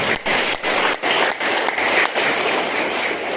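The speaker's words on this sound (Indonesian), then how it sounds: "Tepuk tangan untuk ibu kita masing-masing." Church congregation clapping during a Sunday sermon, applauding for mothers; a full, busy patter of many hands with a few brief dips, sustained and fairly loud with no voices over it.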